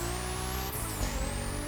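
A Toyota Supra Ryujin Edition in a racing game holds a steady high engine drone, then its pitch dips as the car brakes into a corner, with faint tire noise under the loud continuous motor.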